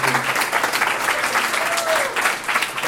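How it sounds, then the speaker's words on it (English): An audience at a Startup Grind gathering in Los Angeles applauds a guest speaker, a thick, continuous burst of clapping with slight swells that carries close and loud throughout. "give a round of applause for TX"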